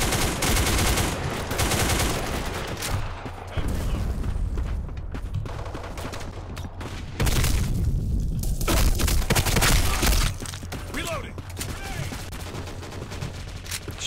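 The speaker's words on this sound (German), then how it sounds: "die letzte Kugel hat ihn dann doch noch erwischt" Gunfire in the video game Black Squad during a team deathmatch: repeated rapid bursts of automatic shots and sharp bangs, loud and close, with pauses between volleys.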